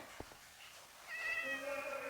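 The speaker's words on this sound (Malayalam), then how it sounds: "ഒരു പൂച്ചയെ നിൽക്കുന്നു ഇവിടെ" A Minecraft cat meows in a drawn-out, tonal call that starts about halfway through, over a quiet synthetic background with a couple of soft taps before it.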